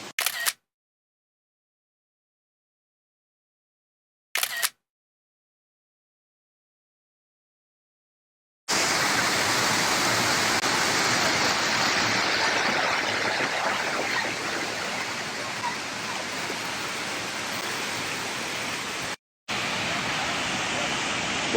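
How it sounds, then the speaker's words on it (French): Broad, steady rushing roar of the top of a waterfall near Luang Prabang, Laos, starting after a few seconds of silence broken by two short clicks, then filling the rest loud and constant with one brief dropout. "ça c'est le haut de la cascade"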